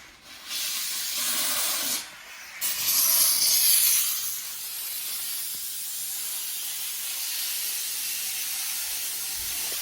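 A Shark Genius steam mop lets out a continuous broad hiss of steam, with a sharp burst near the start before it settles into a steady, moderately loud spray with no talking.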